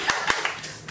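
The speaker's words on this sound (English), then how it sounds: "I feel like we should clap." A few people clap on a yacht after a crew interview, several separate hand claps in under a second, close and brief.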